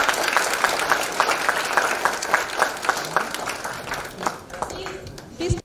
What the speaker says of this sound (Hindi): इस गाने के लिए एक ताली तो बनती है